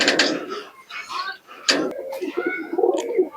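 Pakistani pigeons coo close by, low rolling calls recurring through the moment, with a few faint human sounds mixed in.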